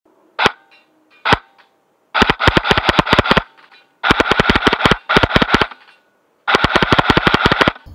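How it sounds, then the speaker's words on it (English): A Double Eagle Honey Badger airsoft gun fires at cans in bursts: two single sharp shots, then several rapid clusters of loud snapping reports separated by brief pauses, close and dry. "now I'm going to shoot the cans in the double firing mode"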